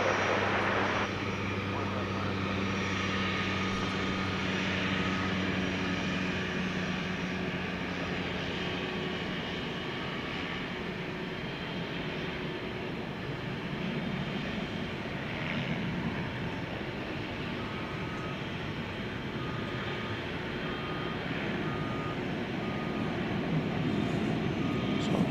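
A 1994 Cessna Grand Caravan at DFW Airport gives a steady, broad engine roar held at even loudness throughout, fairly close, with a low droning hum beneath and voices talking over it at times.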